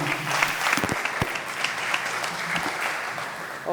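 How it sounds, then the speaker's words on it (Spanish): Audience applause at an evening talk in a lecture series on Che Guevara, starting with a few distinct claps that quickly fill into a steady, moderate ovation. "Les voy a pedir de nuevo un fuerte aplauso para ella"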